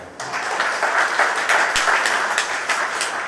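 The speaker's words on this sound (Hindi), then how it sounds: "बहुत सारी तालियां" Audience applause at a talk on yoga as alternative medicine, a dense, steady wash of many hands clapping that sustains for several seconds at moderate loudness with no voices over it.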